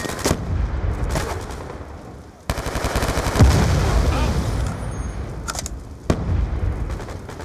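In a video game raid, a grenade goes off with a heavy boom amid bursts of close gunfire. Loud shots crack sharply before and after the blast, which rolls on for a moment.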